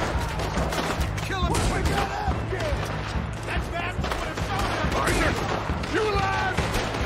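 Dense gunfire crackles without pause through a Red Dead Redemption 2 shootout, volleys of shots overlapping at steady loudness while voices shout over the battle.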